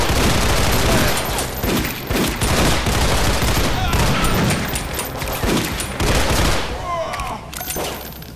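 Dense, continuous video-game gunfire in a zombie-town shooter, rapid bursts and booms overlapping for the whole stretch, loud and close with brief dips between volleys.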